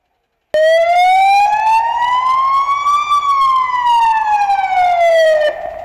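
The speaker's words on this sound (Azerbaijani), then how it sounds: "Tərəfimizdən şərti yanğın həyəcan siqnalı verilərək" A fire alarm siren sounding during a fire safety drill, starting abruptly and wailing loud and near, its tone climbing slowly then falling again in one long sweep.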